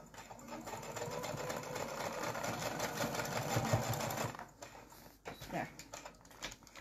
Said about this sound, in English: I'm just going to sew across about 1/8 of an inch seam allowance just to keep him in place there